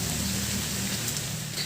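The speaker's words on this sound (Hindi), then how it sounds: "बारिश आ गई भाई, ज़ोर से ही आ गई बारिश।" Heavy rain beginning to fall outdoors at a home, a steady dense broadband hiss of downpour with a low rumbling undertone, continuous and fairly even throughout.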